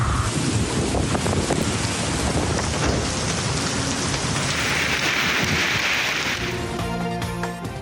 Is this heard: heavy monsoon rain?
yes